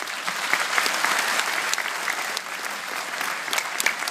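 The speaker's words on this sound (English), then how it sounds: "I'd ask that they be given a round of applause" Audience applause at a Dublin citizenship ceremony, many hands clapping steadily at moderate distance, with scattered sharper claps standing out from the crowd.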